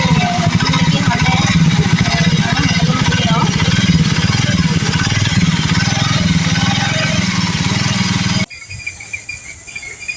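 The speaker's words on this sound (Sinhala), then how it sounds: "මම දැන් මේ බයික් එක ස්ටාර්ට් කරනවා." A Honda CD 50 motorcycle engine runs steadily and loudly at close range, a continuous buzzing putter that cuts off abruptly near the end, leaving quiet background with crickets.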